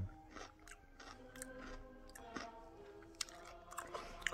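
A pickled gherkin eaten with a liver pâté sandwich is chewed in steady crunchy bites, moist close-up munching with a few sharper crisp snaps, quiet and without talk.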